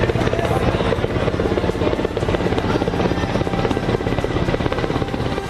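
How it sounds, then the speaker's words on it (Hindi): An Indian Army Mi-17 helicopter passes overhead in the sky over Jhansi during a military display, its loud rotor chop beating steadily and densely throughout with a constant broadband engine roar. "इंडियन आर्मी के Mi-17 हेलीकॉप्टर ने झांसी के आसमान में उड़ान भरी"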